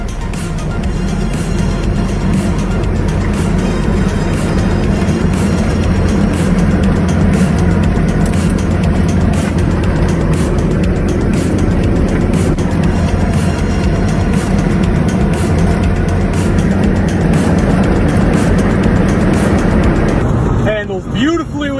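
Engine and road noise fill the cabin of a 1955 Ford Customline wearing a BMW body on new suspension, a loud continuous drone throughout with someone talking over it.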